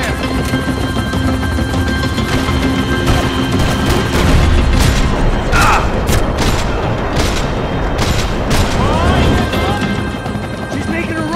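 Gunfire during a chase in the video game Max Payne 3, a dense continuous barrage of booming shots and crashes under shouting voices.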